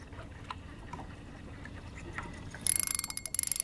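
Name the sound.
fishing reel drag as a crappie pulls line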